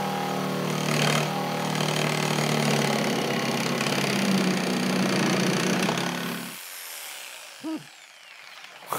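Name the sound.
Makita jigsaw cutting curves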